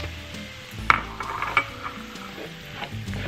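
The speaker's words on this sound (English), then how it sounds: "we're just going to keep stirring this for another 2 minutes" Stirring a flour roux with sautéed onions and garlic in a pot for chicken and dumplings: soft scraping utensil strokes and a couple of sharp clinks against the pan over a low, steady background, with no talking.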